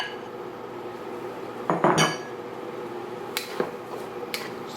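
Oil-free vegetable fried rice with carrots stirred in a pan, giving a few sharp clanks and scrapes of a utensil against metal over a quiet steady background hiss.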